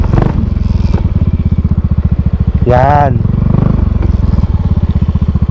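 A motorcycle engine idles loudly and steadily up close while parking near Malabrigo Lighthouse in Lobo, Batangas, its even throb running throughout, with someone briefly talking over it.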